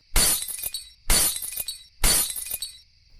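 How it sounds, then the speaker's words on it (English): Three sharp bursts of breaking glass as light bulbs explode one after another overhead, each a loud crack followed by a tinkling scatter of shards, evenly spaced about a second apart. "of the bulbs exploding one by one above me. Glass rained down around me"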